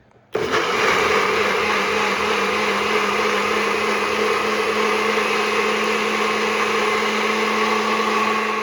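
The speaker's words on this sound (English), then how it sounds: "So here it is in my blender cup. Let's get this blended." A blender whirs loudly and steadily while blending a sauce, starting abruptly after a brief quiet moment and running continuously with a high, grinding motor drone.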